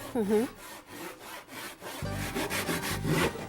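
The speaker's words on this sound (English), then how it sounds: "Unlike Western saws, this saw cuts as you pull it toward you." A Japanese pull saw cuts through wood in steady rhythmic strokes, close and fairly loud, with a brief voice at the start.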